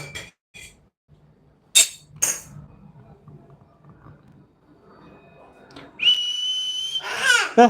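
A pressure cooker's steam whistle shrills loudly near the end, rising into a sustained high hiss and then wavering, after a stretch of quieter kitchen clinks and taps.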